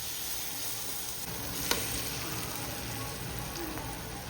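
Snakehead fish sizzling and being stirred in masala in a pan, a steady close crackling fry throughout with one sharp scrape of the spoon near the middle.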